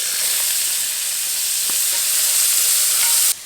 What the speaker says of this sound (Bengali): এখন এই তেলের মধ্যে গাজর দিয়ে ভেজে নেব।